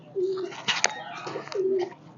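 A black Chinese pigeon coos several times in low, soft, drawn-out calls, close and fairly loud, with a few sharper bird chirps and faint rustles between them.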